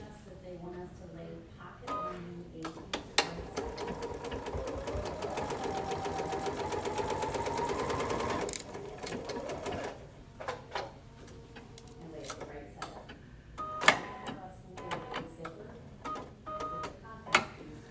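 Sewing machine stitching the folded fabric of a fluted fabric bowl in a steady whirring run of a few seconds, preceded and followed by clicks, handling sounds and brief speech.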